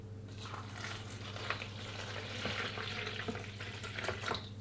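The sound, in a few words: lukewarm water being poured in for gluten-free bread dough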